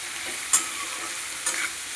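Vegetables and baul fish seasoned with salt and turmeric sizzle quietly in a frying pan, and two sharp scraping strokes of a spatula stir through them.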